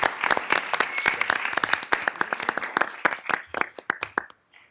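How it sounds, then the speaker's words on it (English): Audience at a Dubuque city council meeting breaks into a burst of loud, dense hand-clapping that carries on steadily, then thins out into scattered claps before fading. "So I think Becky deserves a big round of applause for that honor."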